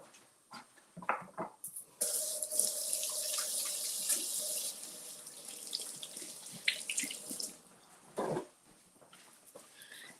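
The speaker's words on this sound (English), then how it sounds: "so I'm gonna wash my hands" Tap water runs into a sink while hands are washed, a soft hissing stream with splashy bursts and a few faint clicks and knocks, recorded close and quietly in a home kitchen.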